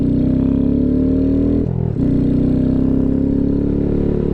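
A Honda Grom motorcycle engine drones loud and steady while riding, with a brief dip in the middle before the hum picks back up; no one speaks.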